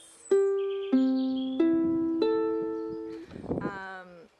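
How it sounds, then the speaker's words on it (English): Several single ukulele notes are plucked one after another, each ringing and fading, followed by a brief strummed chord near the end. "So far I hope you've managed to tune your ukulele, so it should sound like this."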